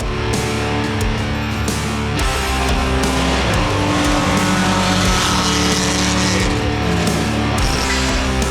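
A race car engine roars continuously at high revs during an endurance race, loud and dense from start to finish with steady engine drone and faint tire noise, no voices.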